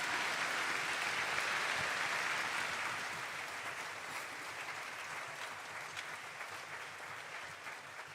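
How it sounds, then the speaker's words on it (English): A school assembly audience at a Veterans Day program applauds Mr. Gandy, a broad sustained wash of many hands clapping, heard from a distance and fading gradually over the clip. "Let's give Mr. Gandy a huge round of applause, everybody."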